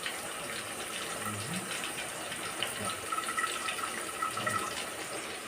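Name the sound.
tamarind juice being poured into fish curry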